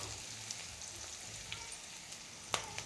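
Capsicum frying in a pan for a batani and potato gravy, a quiet, steady sizzle with scattered small pops and one sharper crackle near the end.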